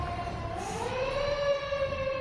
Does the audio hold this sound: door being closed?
no